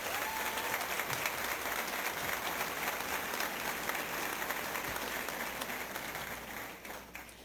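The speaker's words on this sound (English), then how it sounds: "Let's give these students a round of applause." A crowd applauds students at a Career and Technology Center health professions academy ceremony. Dense, even clapping carries on throughout and thins slightly at the close.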